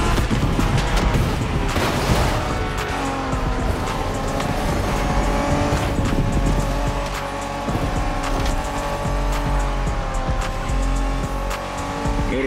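Cars street racing in The Crew Motorfest, a Japanese street race in the video game: loud, continuous engine roar with shifting revs and tire squeals, steady and close throughout, with no talking.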